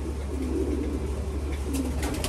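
A racing pigeon coos softly and low against a steady loft background hum, the calls faint and continuous with some brief higher sounds near the end.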